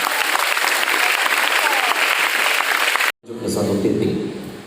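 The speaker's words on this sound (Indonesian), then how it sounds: "Mari sejenak berikan tepuk tangan untuk beliau." A crowd at a family gathering gives loud, dense applause as a religious teacher walks to the main stage. The clapping cuts off abruptly, and a voice then speaks.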